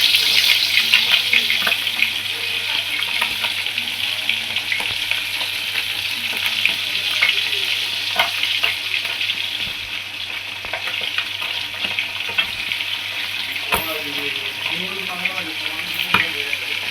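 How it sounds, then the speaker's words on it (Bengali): Bitter gourd fries and is stirred in a pan, giving a dense, steady sizzle that runs throughout, with occasional scrapes and clinks of stirring close by. "তারপরে হবে করলা ভাজা"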